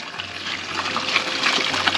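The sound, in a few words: running water flowing over soft drinks to chill them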